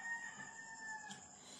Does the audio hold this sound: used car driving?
no